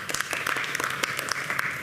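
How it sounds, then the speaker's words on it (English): A room of attendees at a Tennessee Black Caucus legislative briefing claps for a former state senator and deputy police chief, a brisk, fairly loud burst of many hands with distinct individual claps, nearby and unaccompanied by talk. "Let's give him a round of applause."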